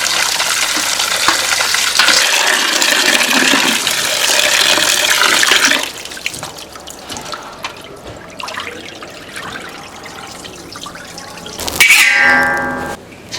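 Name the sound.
water running while rinsing pork belly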